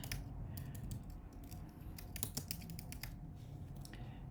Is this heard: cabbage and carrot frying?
no